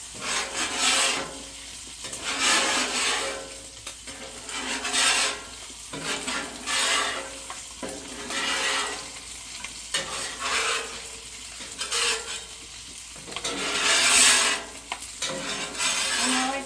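A metal scraper pushes bacon grease across a hot Blackstone griddle in rhythmic strokes, each sweep a close, loud rasp over a steady sizzle, with no talk.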